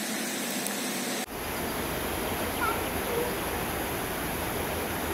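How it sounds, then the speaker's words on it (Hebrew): A steady, roaring rush of falling water fills the air at the Ørnesvingen overlook in Norway, close and dense, surging in abruptly after a brief muffled moment. "איך הם סדרו מפל יפהפה מהמפלים שזורמים כאן"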